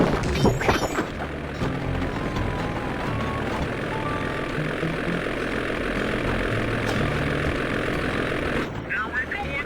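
A steady, loud propeller-plane drone from the video game Sly 2 runs under game effects and spoken lines before stopping abruptly near the close.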